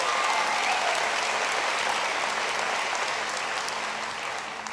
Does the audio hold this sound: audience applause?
yes